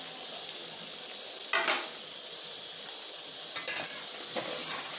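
Chicken being fried in a pan for curry gives a steady, moderate sizzle, broken by a few sharp scraping stirs near the middle and end; no one talks.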